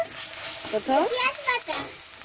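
Onion paste fries in a pan with a soft, steady hiss beneath a person speaking, the sizzle staying low and continuous under the voice.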